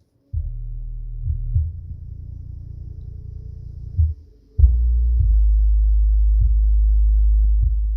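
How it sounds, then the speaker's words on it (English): Deep, throbbing bass notes boom from small Sony subwoofers (SA-WMSP87 and SA-WMSP2), muffled and heavy with little high end, a brief pause midway before a stronger, sustained bass tone. "we have a song playing now that'll be able to get these things moving"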